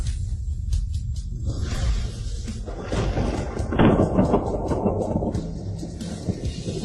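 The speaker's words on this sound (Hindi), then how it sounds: "अच्छा है, हवा, बारिश, बिजली और गड़गड़ाहट सब एक साथ हो गए।" Rain pours steadily with low rumbling thunder rolling underneath in a video game storm, a heavier crash swelling midway through, no voices present.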